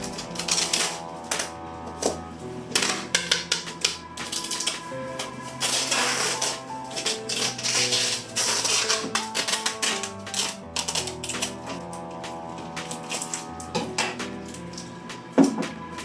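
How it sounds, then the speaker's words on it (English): Packing tape pulled from a roll and pressed around a shipping box for mailing guppies, with repeated ripping screeches and brisk taps and thumps close by, filling the stretch without talk. "That's my summertime tape job around the box, both ways."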